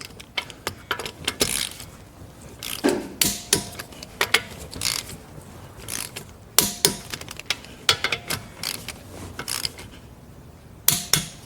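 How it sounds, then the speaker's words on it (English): Torque wrench ratcheting on a Mercedes-Benz S550's wheel bolts, tightened to 110 foot-pounds in a crisscross pattern: close, repeated clicking bursts with sharp metallic clacks between pauses. "The torque spec for the wheel bolt is 110 foot-pound. So we're gonna torque this to 110 foot-pound."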